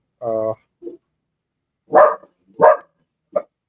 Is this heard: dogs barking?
yes